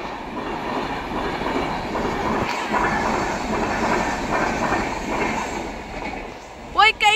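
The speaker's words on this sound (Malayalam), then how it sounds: "ട്രെയിൻ പോവുകയാണ്." A train runs past near a railway station in Kozhikode, a loud continuous rumble and clatter of wagons on the rails, with a voice speaking briefly near the end.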